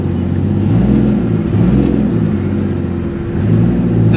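Vortec 4200 inline-six swapped into a Checker Marathon revs and pulls hard under acceleration, a steady close, loud engine roar with rising and falling pitch throughout.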